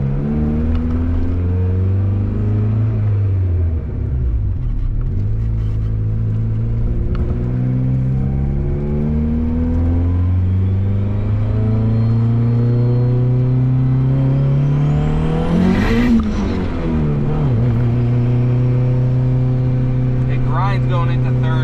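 A turbocharged Honda Civic makes boost pulls at 14 PSI. The engine note climbs loudly through each gear, dips at the shifts, then a sharp rising whine and whoosh spike near the end before it pulls again.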